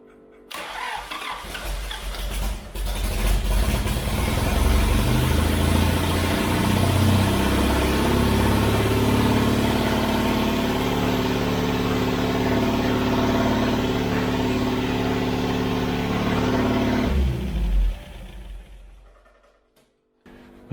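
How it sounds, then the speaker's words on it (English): An old Austin Healey engine cranks and catches, then runs at a rough mid-pitched idle with a few revs before shutting off near the end. It is loud and close, with no talking over it. "with the engine running, it's shaking some more junk out of this poor old frame"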